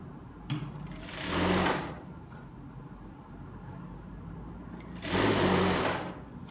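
Sewing machine stitching a pair of elastic-waist trousers with pockets, two short bursts of loud running separated by a quieter stretch of low motor hum, with no talking.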